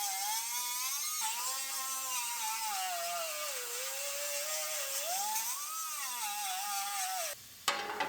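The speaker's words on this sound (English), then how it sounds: "Now we'll start grinding these seam welds off of our apron." An angle grinder whines steadily and loudly for several seconds as it grinds seam welds off a 2019 Ford Explorer's front apron, its pitch rising and falling with the load, then it cuts out abruptly near the end.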